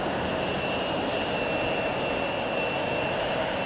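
A plain white Fuji Dream Airlines jet at Fukuoka Airport gives off a steady, loud broadband roar with a thin high whine, constant throughout.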